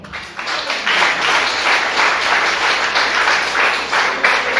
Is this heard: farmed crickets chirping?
no